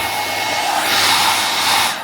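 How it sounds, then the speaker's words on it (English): Strong hotel room hairdryer blowing, a loud steady whooshing motor hum that swells slightly then tails off as it is switched down, heard close and alone. "that is quite a strong hairdryer."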